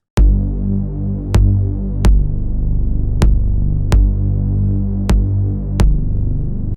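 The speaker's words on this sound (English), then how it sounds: "So it's really, really gritty bass sound." Gritty synthesized electronic bass with a single sine layer added underneath, sustaining loudly with sharp clicks at each new note, roughly one every second, with no voices.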